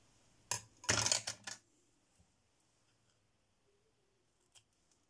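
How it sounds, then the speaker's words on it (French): Scissors snip through paper while a small paper word is cut out for a craft project: a short burst of several crisp cuts, then only faint, sparse rustles. "Et je vais découper mon mot."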